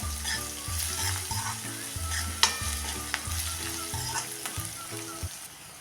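Crushed green chili and garlic sauté in oil in a pan for a Maharashtrian garlic methi dish, giving a steady close sizzle with periodic scraping and stirring strokes and a few sharp utensil clinks, with no talk.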